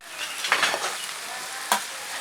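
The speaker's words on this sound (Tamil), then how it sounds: "சின்ன வெங்காயம் நல்லா வதங்கட்டும்." Small shallots sauté in hot oil in a pan for a village-style goat blood fry, giving a steady close sizzle with a sharp clink of a stirring spoon near the end.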